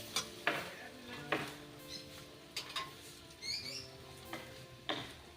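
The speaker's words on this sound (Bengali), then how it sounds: "পেঁয়াজটা দেখুন একটু ভাজা ভাজা হয়ে গেছে" Onions sizzle and fry in a pan with salt for Mughlai paratha, steady frying hiss broken by a few sharp clinks and stirring scrapes, close and moderately quiet with no talk.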